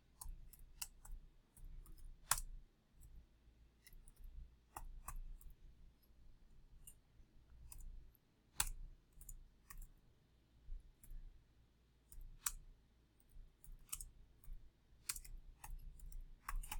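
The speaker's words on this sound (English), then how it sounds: "y'all see how I type?" Typing on a computer keyboard, close and fairly quiet, with irregular clusters of sharp key clicks and short pauses between bursts.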